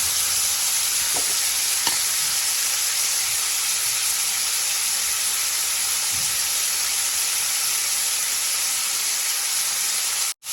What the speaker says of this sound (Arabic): هنا بقى قلبت اللحمه كده على وشها الثاني بعد ما خدت لون